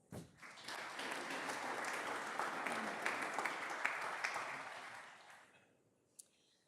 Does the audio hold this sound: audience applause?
yes